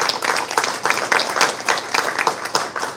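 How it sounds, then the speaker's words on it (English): Applause from a meeting audience for a young student at a school board session, a steady wash of many hands clapping at close range with no talk over it. "one more round of applause for Mateo."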